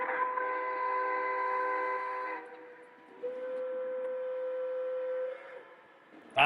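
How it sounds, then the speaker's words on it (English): A Pennsylvania Railroad steam locomotive whistle, the haunting chime of an M1A Mountain type, blows long sustained chords alone, shifting to a thinner single tone midway before cutting off. "I think Pensie's whistles were some of the best."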